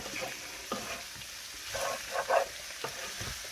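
Pork or beef roast seasoned with salt, lemon juice and pepper crackles and sizzles in a pan, close up, as a utensil stirs it in several scraping strokes.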